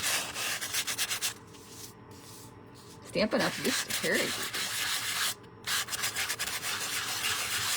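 Nail file sanding block scraping across a paper Christmas card, a steady scratchy rubbing in short repeated strokes, with someone talking over it partway through.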